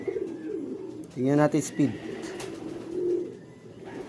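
Racing pigeons coo in short throaty bursts after returning home to the loft from the first lap of a derby, with someone talking over the birds.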